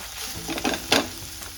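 Whole masoor lentils sauté in hot oil, with a steady sizzle broken by two sharper scraping stirs of the spoon against the pan.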